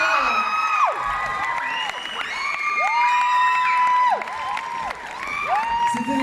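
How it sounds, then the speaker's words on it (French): A festival audience at a cosplay event cheers, whoops and applauds for a group, with high children's shouts rising and falling in waves across a lively crowd. "Vous pouvez l'applaudir."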